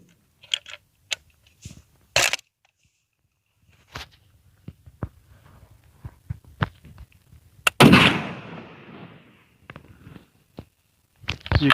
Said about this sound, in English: This rifle with the 303 British cartridge and see how it shoots.